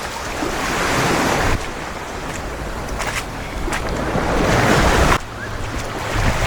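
Waves washing onto a beach in the Philippines, a loud, continuous roar of surf with swelling rushes and buffeting wind across the microphone.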